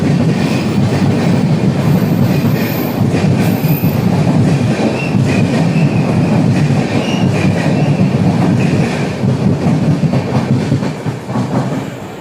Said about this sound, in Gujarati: ફૂલ સ્પીડમાં ટ્રેન નીકળી ગઈ છે